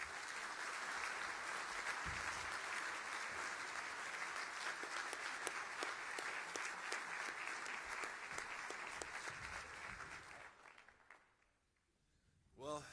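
An audience at a Catholic banquet in Fargo, North Dakota applauds steadily to welcome a speaker, the clapping sustained for about ten seconds before fading out.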